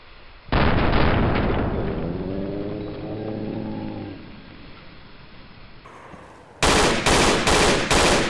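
Bolt action rifle gunfire in the Insurgency video game: a loud close shot with ringing reverberation and a fading tonal echo, then after a pause a rapid burst of several loud close shots in quick succession.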